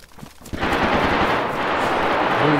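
Dense, continuous gunfire in the survival video game DayZ, set in the toxic zone of Elektrozavodsk, erupting after a quiet half-second and holding loud and steady as rapid automatic bursts to the end.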